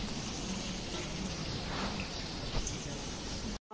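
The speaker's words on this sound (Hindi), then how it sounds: "बारिश देखिए, बारिश अभी भी हो रही है" Steady rain falls outdoors as a dense, even hiss of drops that is constant and moderately loud, then cuts off abruptly just before the end.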